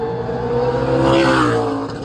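A Pro Late Model race car, the number 2 from Wenatchee, Washington, roars around an oval track at Wenatchee Super Oval, engine note swelling loudly as it passes close by, then easing away, with no voices heard.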